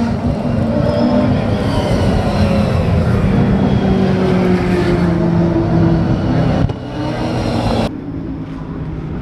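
Race cars at the Bathurst 12 Hour endurance race, heard from the bottom of Skyline, roar past in a loud, continuous wash of engine noise that shifts pitch and thins out toward the end.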